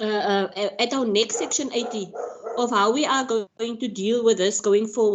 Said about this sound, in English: sorry for the dog, but there's people outside in the street with dogs, so now he is barking.